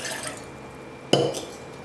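Water is poured into a pan for lemonade syrup, giving a short splash and clatter against the metal after a quiet moment, close and fairly loud.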